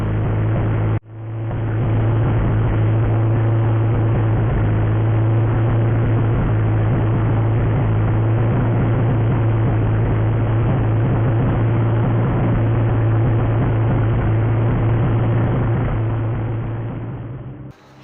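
A Honda Civic engine runs on a dyno with a loud, steady drone from start to finish, a brief dip near the start, then an unbroken hum.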